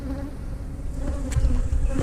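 Honeybees buzzing during a nuc hive frame check, a steady close hum that swells slightly louder toward the end, with no talking.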